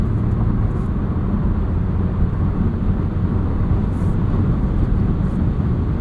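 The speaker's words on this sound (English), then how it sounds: "Pretty minimal wind noise on the highway." Steady broadband road and engine rumble inside a 2023 Volkswagen Jetta Sport with a six-speed manual cruising on the highway, constant and fairly loud with little change and no talking.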